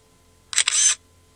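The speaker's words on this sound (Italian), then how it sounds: "Faccio alcune foto così le posso postare sui social network" Shutter clicks from the camera of a DJI Phantom 4 Pro+ drone taking photos, two quick close bursts lasting about half a second in a quiet setting.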